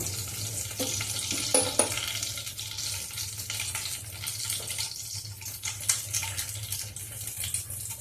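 Pabda fish sizzles in hot oil in a pan, a steady, even hiss with occasional soft pops and crackles, heard alone at a moderate, close level.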